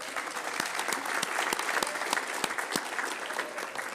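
Applause in a city council chamber after a presentation, a modest crowd clapping steadily with distinct individual claps audible throughout.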